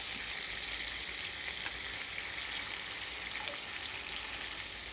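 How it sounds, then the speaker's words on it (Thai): Thai fermented pork sausage fries in hot oil, a dense steady crackling sizzle that stays constant throughout, close by with no voices. "ทอดแหนม"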